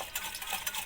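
Yogurt is whisked in a bowl to break up its lumps while making besan dahi bhalle, giving a steady, close, busy scraping and stirring with no talking.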